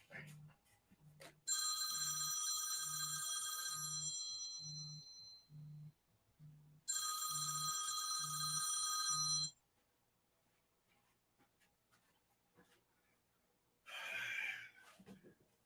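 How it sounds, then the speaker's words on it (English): A phone rings on the far side of a room in two long ringing bursts, each with a steady pulsing pattern, faint and distant, followed by a brief rustle. "why is my phone ringing? It's all the way on the other side of the room"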